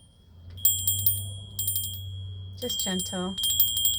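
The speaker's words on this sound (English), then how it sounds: "Somebody needs fairy bells, so mind your ears." Tinkling fairy bells ring in clustered bursts, clear and bright over a low steady hum, with a person speaking briefly partway through before the chimes resume.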